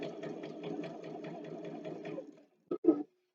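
A sewing machine runs steadily along the edge of a fabric scrunchie for about two and a half seconds, then stops, followed by two short mechanical clunks.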